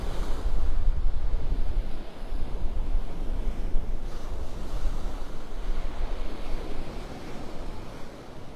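Ocean waves wash steadily onto the beach at Wiggins Pass in Naples, Florida, a continuous broad surf roar mixed with heavy wind buffeting the microphone, with no one talking.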